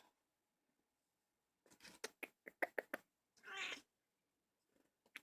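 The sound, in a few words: cat meowing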